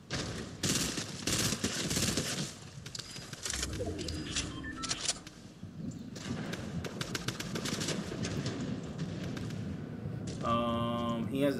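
Fortnite gunfire crackles in rapid bursts and single shots over game effects, with a tonal in-game chime near the end.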